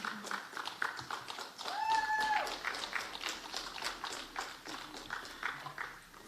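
An audience applauds at the DeKalb Police Department's 132nd police graduation ceremony. Fairly quiet, steady clapping from many hands continues for several seconds in a large room.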